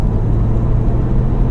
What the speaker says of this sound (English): healthy pull from the 3-litre diesel engine.